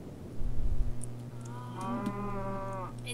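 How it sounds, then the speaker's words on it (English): Cows in the Survival Island video game let out a drawn-out low moo, rising and wavering in pitch, after a short rustle, heard clearly with no talk. "So what are you doing? Breeding cows."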